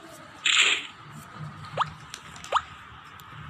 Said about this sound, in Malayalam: വെള്ളം ഒറ്റണു ഗൈസ്. മഴ പെയ്യണ്ടാണ്.